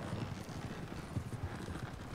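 Horses galloping in a video game, a quick, rhythmic clip-clop of hooves moving at a steady pace, moderately loud with no talking over it.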